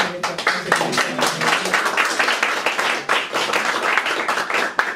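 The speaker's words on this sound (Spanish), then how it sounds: "Un aplauso." An audience claps for a few seconds at a book launch for a seventh poetry collection: dense, steady applause from many hands, close and lively, with no speech over it.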